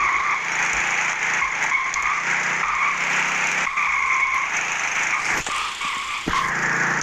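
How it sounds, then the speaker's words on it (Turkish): A car drifts with its tires skidding, giving a sustained squealing, scraping tone with engine noise beneath and a few sharp bursts, loud and close, with no talking. "araba mı sürüyorum, drift mi atıyorum belli değil"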